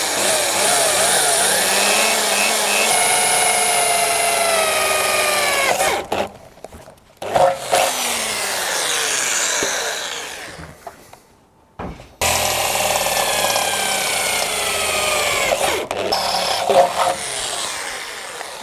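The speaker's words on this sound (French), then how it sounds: "on va percer d'abord à 5, puis à 10, puis après, ben, on agrandira" An electric drill bores holes in metal, first with a 5 mm bit and then a 10 mm bit, while fitting a winch to a Dacia Duster 4x4. It gives a loud close grinding whine in long runs, broken by a few brief pauses.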